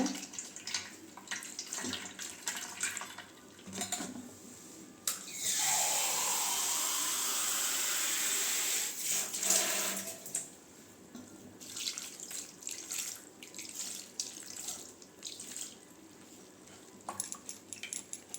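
Tap water runs in a strong, steady stream over soya chunks for several seconds, flanked by lighter splashes and drips, close by.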